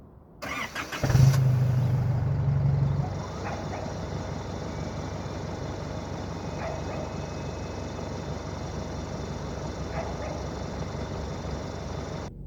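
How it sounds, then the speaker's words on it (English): A 2012 Isuzu KB300 LX D-Teq diesel pickup cold-starting: a brief starter crank, a loud catch and rev that settles within seconds into a steady, rattly diesel idle heard close by. "you gotta love the sound of a diesel engine"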